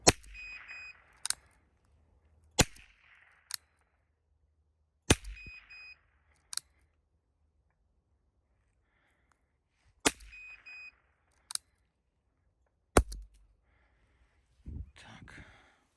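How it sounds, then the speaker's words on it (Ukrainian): Several sharp, loud gunshots from a CEM RS 1.1 revolver fired through a chronograph, spaced irregularly with pauses between, each a sudden crack with short reverberation; faint background sounds between shots. "відстріл револьвера РС через хронограф"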